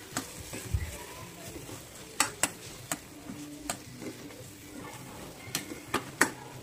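A spoon stirs vegetable masala frying in oil in a pan, with sharp metallic clicks and scrapes over a quiet, steady sizzle. No one speaks.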